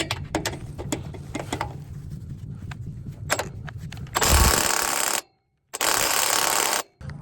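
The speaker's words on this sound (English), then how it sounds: "I was able to get my hands on this power drill, Milwaukee fuel, or like power ratchet" Milwaukee Fuel cordless power ratchet working an exhaust nut loose on a Hyundai Elantra N, with a low mechanical rattle and clinks first, then two loud bursts of high-speed whirring split by a short pause.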